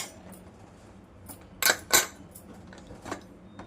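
Metal pressure cooker whistle being lifted off after five whistles, a few sharp metallic clinks and taps, two close and bright, over quiet kitchen background.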